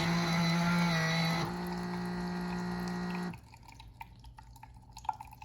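Water runs from a Baby Brezza formula machine into a baby bottle for a 4-ounce pour: a steady stream with a motor hum that weakens, then stops, leaving faint drips and small clicks.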